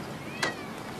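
A tomcat gives a single short meow indoors, close by and clear, over a quiet room-tone background.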